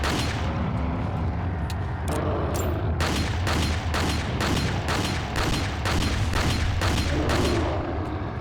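Rapid volley of gunfire aimed at a boulder in the video game Resident Evil 4, loud sharp shots repeating in a steady rhythm over a rumbling game background, growing denser partway through.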